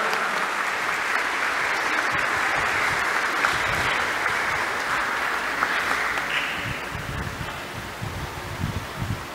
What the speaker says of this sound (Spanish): Un aplauso para Ageda.